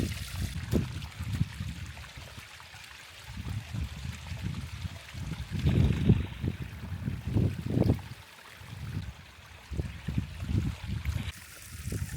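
Fresh running water from a small stream beside a hillside campsite, a steady close trickle and gurgle with rising and falling surges throughout, no talking.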